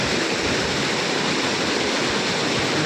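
Floodwater of the Shiyala river rushes past in a steady, loud, broadband roar, continuous and unbroken with no voices over it.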